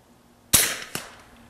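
Two shots from a Hatsan big bore air rifle during outdoor muzzle velocity testing, a sharp loud crack followed about half a second later by a second, quieter report, each with a short decaying tail, no talk.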